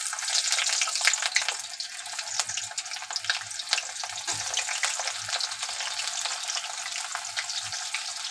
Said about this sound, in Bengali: পেঁয়াজটা আমি এখন ফোড়নে দিয়ে দেবো।